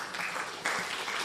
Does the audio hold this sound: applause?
yes